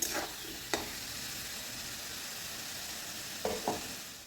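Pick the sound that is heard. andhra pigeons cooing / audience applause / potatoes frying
potatoes frying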